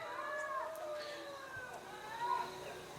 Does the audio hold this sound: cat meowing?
yes